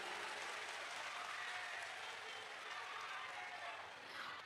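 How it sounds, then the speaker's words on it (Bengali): A crowd at a rally claps loudly and continuously, a thick, even wash of applause that holds steady from start to finish. "ওর জন্য একটা জোরে হাততালি হয়ে যাক"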